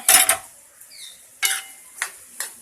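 A utensil stirs capsicum into pasta in a cooking pan, giving a few short, faint scraping and clinking strokes separated by pauses, close by and with no talking.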